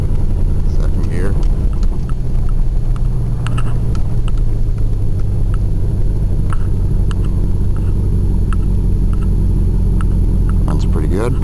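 An old Oldsmobile car engine runs while driving, a loud, steady low rumble with road noise throughout, a brief shift near the start and occasional ticks above the drone.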